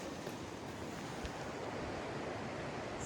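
Strong wind roars in the Dolly Sods Wilderness as a loud, constant rushing gust that buffets the microphone with little variation.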